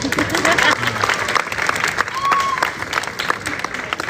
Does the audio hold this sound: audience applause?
yes